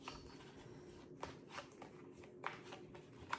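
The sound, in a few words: shuffling a deck of tarot cards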